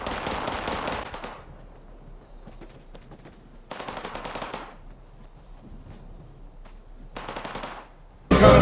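Rapid automatic gunfire from the post-apocalyptic video game Fallout 76, three loud bursts of about a second each, spaced by quieter stretches holding faint scattered distant shots, ending in a sudden loud burst.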